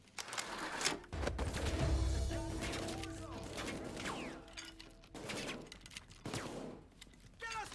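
Video game Payday 2 heist combat with bursts of rapid gunfire and sniper shots, dense and layered with crashes and mechanical clatter, rising and falling over a steady background.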